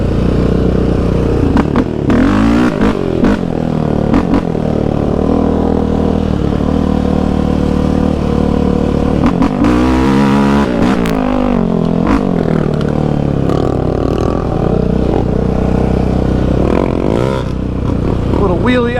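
A Yamaha Raptor 700 Stage 3 ATV revs hard through a wheelie over bumps, loud fluctuating engine roar with repeated throttle surges and clattering, close up, with a voice talking at times.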